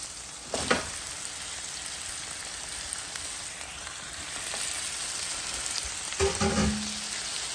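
Chayote going into a hot pan with mussels, a steady loud sizzle with faint stirring scrapes and two sharper clatters as pieces are added, no voices.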